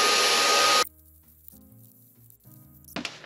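A vacuum pulls air out of a textile storage bag: a loud, steady hiss lasts nearly a second, then stops abruptly, leaving low hums and a quieter rush that returns at the end.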